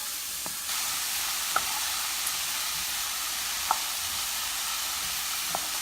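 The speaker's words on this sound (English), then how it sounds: "I'm going to saute this for about another 5 minutes." Frozen peas and prosciutto are sautéed in a pan, producing a steady, loud, close sizzle that runs the whole way through. A few faint clicks or taps sound now and then, and nobody speaks.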